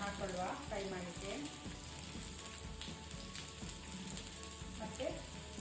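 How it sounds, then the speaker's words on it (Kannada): Onion frying in oil in a pan for Mangalore-style chicken sukka, giving a steady, fairly soft sizzling hiss with occasional stirring clicks throughout. "ಅದೇ ಪ್ಯಾನಿಗೆ ಸ್ವಲ್ಪ ಎಣ್ಣೆ ಸೇರಿಸಿ ಮತ್ತೆ ಅರ್ಧದಷ್ಟು ಈರುಳ್ಳಿ ಒಗ್ಗರಣೆಗೆ ಇದಕ್ಕೆ ಹಾಕೊಳ್ಳುವ, ಫ್ರೈ ಮಾಡಲಿಕ್ಕೆ"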